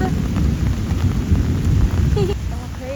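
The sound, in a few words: heavy rain with thunder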